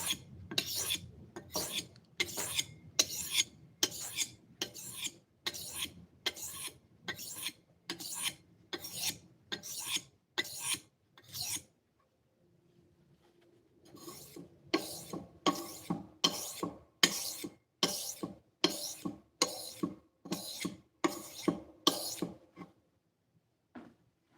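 A steel blade rasps back and forth on a 3000 grit whetstone in a steady run of close, evenly spaced strokes. The strokes stop for a short pause near the middle, then the rhythmic scraping resumes.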